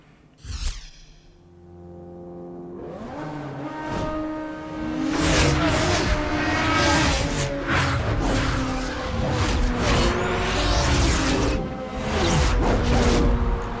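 A Mazda race car in Need for Speed: Hot Pursuit (2010) roars as its engine climbs through the revs and shifts gears. The sound is loud and close, with rushing whooshes as it speeds along.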